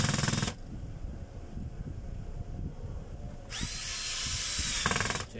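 A power drill drives in the screw holding a gear, with two loud whirring bursts at the start and end of a short stretch of quieter handling noise between them.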